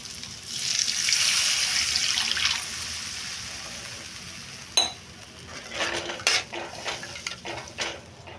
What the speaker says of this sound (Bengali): নুন আর চিনি দিয়ে এবারে আমি জল দিয়ে দেবো